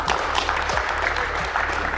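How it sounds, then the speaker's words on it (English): An audience claps together on a count in a coaching session, making a brief, loud burst of clapping that sounds as one group. "we'll get a single clap on me on 3"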